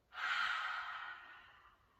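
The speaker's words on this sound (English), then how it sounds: "take a big breath in, and a big breath out." One long, smooth breath in and out, close and soft, swelling quickly and then fading slowly over about two seconds during a kids' yoga session.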